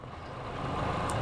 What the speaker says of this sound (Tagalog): May dumaan kotse pag ganun.